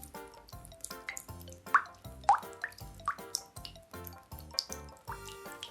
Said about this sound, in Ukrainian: Крапання бурульок.